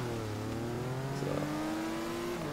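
A race car in Forza Horizon 3 revs and shifts gears quickly: a loud, continuous engine drone whose pitch climbs and drops with each fast gear change, with no talk over it.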